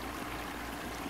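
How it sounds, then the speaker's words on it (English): Water oozing and trickling out of a backwash sock fitted to a DE pool filter outdoors, a steady soft watery wash with no breaks, heard alone and fairly close. "The water's just literally just oozing out."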